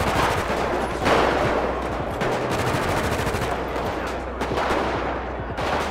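Video game gang fight in a favela, GTA style, with dense rapid automatic gunfire and sustained bursts. A few sharper shots stand out over the continuous loud rattle, and no one speaks.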